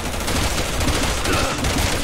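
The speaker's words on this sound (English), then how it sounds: "Stop shooting me." Rapid gunfire from the video game Resident Evil 6 rattles continuously and loudly through the whole stretch, bursts overlapping with no pause, set in a chaotic co-op firefight.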